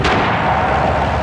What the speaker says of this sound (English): Danger close artillery.